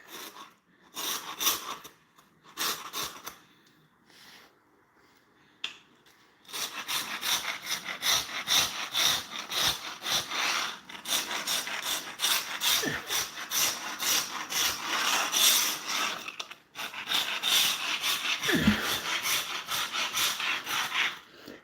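Old tile grout being scraped out about an eighth of an inch deep in preparation for regrouting. After a few short opening strokes, the close, gritty rasping settles into a long run of quick back-and-forth scrapes with brief pauses.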